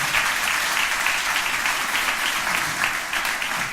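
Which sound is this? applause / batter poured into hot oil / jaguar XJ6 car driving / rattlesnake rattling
applause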